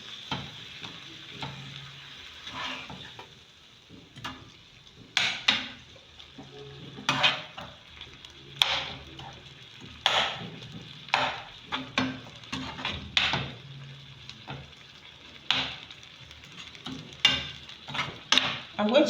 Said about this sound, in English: I'll continue to stir it.